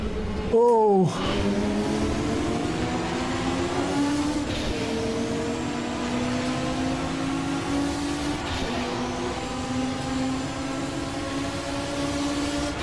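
A Ford Capri racing car in a track race, its engine note rising and falling as it accelerates along a straight, with a brief loud burst near the start and steady harmonic drone throughout.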